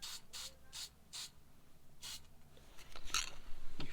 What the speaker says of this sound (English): With a light spray of this matte on that section